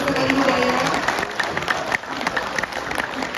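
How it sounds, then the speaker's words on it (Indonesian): An audience at an Islamic religious gathering claps in a dense, steady round of applause that fades briefly toward the end. "kita boleh berikan tepuk tangan untuk Ustaz Adi Hidayat."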